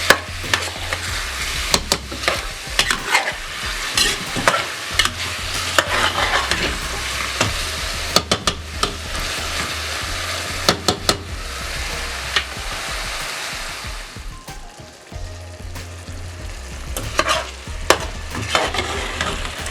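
Salted chicken curry cooks in a pot, a continuous close sizzle and bubbling broken by repeated scraping and clinking of a spoon stirring against the pan, with a low hum underneath and no speech.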